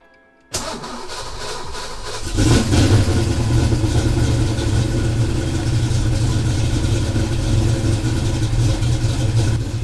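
A Fox Body Mustang engine cranks briefly from a cold start, catches with a loud close roar and settles into a steady, rumbling idle that holds for the rest of the stretch.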